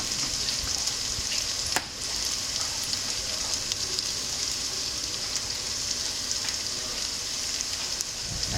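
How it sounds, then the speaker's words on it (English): Tomato sauce with tomato paste, made from home-canned tomatoes, cooking in a pan, giving a soft continuous sizzle and bubbling at low volume with an occasional faint stir, no voices. "let this cook until the tomato paste turns a deep red"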